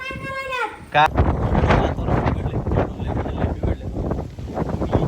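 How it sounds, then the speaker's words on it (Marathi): Strong wind buffets the microphone in roaring gusts during heavy rain, loud and continuous with a voice talking over it after a short burst of other sound at the start. "वारं बिघडलेलं असणार"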